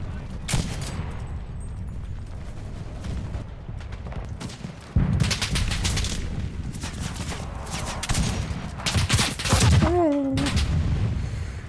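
Gunfire crackles in the Enlisted World War II shooter during a Market Garden event, with repeated bursts and shots over a dense battle din and a brief voice sound.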